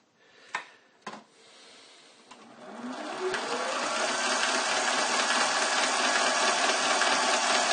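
Lathe change gears whir up noisily after a couple of sharp clicks, settling into a steady, gritty mechanical drone that stays loud and close to the end.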